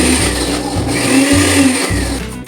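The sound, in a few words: mixer grinder coarsely grinding green chillies and ginger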